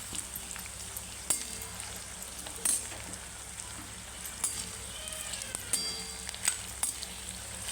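Onion frying in a pan for soybean biryani, a low steady sizzle with occasional crisp spatula taps and spits, near and without talk.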